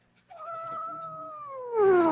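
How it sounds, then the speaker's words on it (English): A cat gives one long, drawn-out meow close by, its pitch slowly falling and rising at the end, with faint background noise beneath. "I see the kitty."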